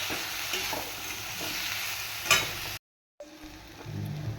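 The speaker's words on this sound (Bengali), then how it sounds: "এবার আমি এর মধ্যে দেব সর্ষে আর পোস্ত বাটা। দিয়ে আরও কিছুক্ষণ নাড়িয়ে দেবো।" Sukto being stirred in a pan after mustard and poppy seed paste goes in, with a loud, steady sizzle and soft stirring scrapes, one sharper clink, then a brief cut to silence before the frying resumes more quietly.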